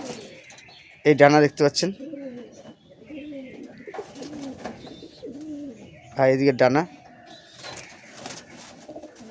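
Domestic flying pigeons coo in low, rolling phrases close by, with two louder bursts standing out, while someone talks over them throughout.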